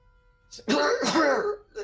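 A voice imitates a rough, hacking cough, a short burst and then a smaller one, close and fairly loud.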